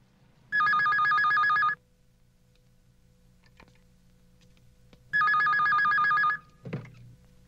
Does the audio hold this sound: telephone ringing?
yes